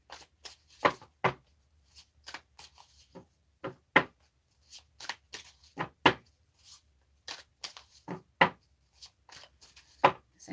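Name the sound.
handling and shuffling cards from a meditation yoga book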